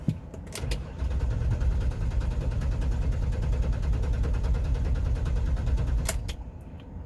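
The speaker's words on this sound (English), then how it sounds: "now I'm going to hold the pedal to the floor and crank it" An engine cranks over on the starter with the accelerator pedal held to the floor, producing a steady, rapid rhythmic chugging for about five seconds before it stops with a couple of clicks.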